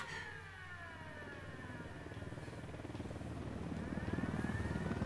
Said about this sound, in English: Holy fuck, there's a helicopter as well?